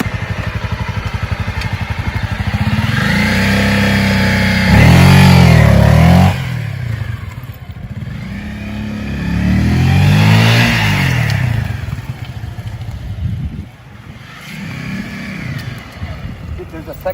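A motorcycle engine revs in repeated rising surges for a fast take-off, with three strong bursts building and falling over steady idle, loud and close, alongside talking.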